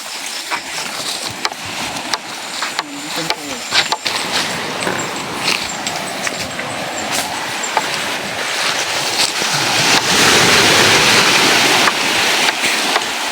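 Sea waves wash against the shore on a rocky coastal path, rushing and hissing with choppy bursts, then swelling into a louder surge near the end, with no voices.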